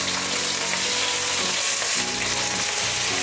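Chicken thighs frying in a pan for a creamy chicken mushroom dish give a loud, steady, dense sizzle that runs unbroken throughout, with low rumbling underneath and no talking.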